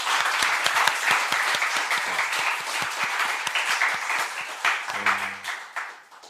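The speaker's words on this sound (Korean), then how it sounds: "우리 다음 세대들 또 입시생들을 위해서 한 번 더 뜨겁게 박수 부탁드립니다" A church congregation applauds warmly during a Korean sermon service, dense clapping throughout, with a brief voice or tone near the end as the applause fades out.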